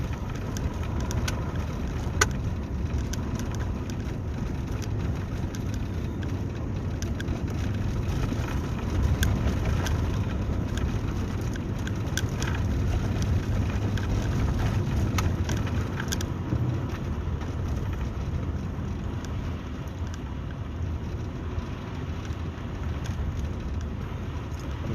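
A car drives on a snowy, icy road during a winter storm, its tyre and road noise a constant low roar with a soft hiss over it, and no voices.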